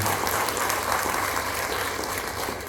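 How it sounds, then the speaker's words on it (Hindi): Dense, steady applause from an audience cheering a boy at a public gathering, a continuous wash of many hands clapping at even loudness with no breaks. "A big round of applause for this boy."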